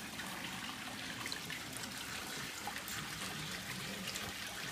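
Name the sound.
water running through a small backpack sluice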